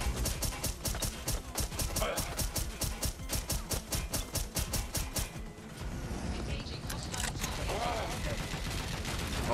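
A paintball gun fires in the video game Watch Dogs: Legion, a rapid, steady stream of loud shots that runs for several seconds. The shots then give way to a dense rumble of gunfire and game noise.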